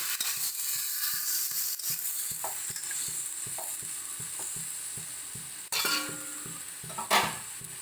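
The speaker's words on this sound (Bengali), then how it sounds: "টমেটোটা দিয়ে ওটাকে ভালো করে পেঁয়াজের সাথে মিশিয়ে নিলাম" Tomato being stirred with onion in a frying pan, steady sizzling under repeated scraping strokes of a spoon, with a louder clatter of the utensil near the end.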